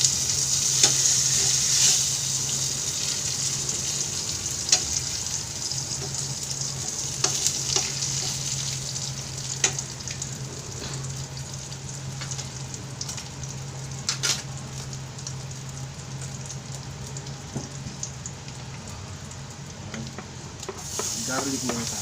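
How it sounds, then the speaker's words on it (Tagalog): Garlic fried rice sizzling in a pan, a steady close crackle with repeated sharp stirring and scraping clicks, a low hum underneath and no speech. "At magpa-fried rice pa tayo."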